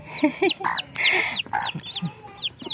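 A mother hen sitting on eggs with her newly hatched chicks clucks and squawks in short, agitated bursts close by, mixed with higher chick peeps, no talk.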